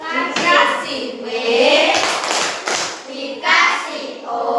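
Children in an Indonesian classroom clap together after a group presentation, lively rhythmic clapping mixed with loud young voices chanting and cheering.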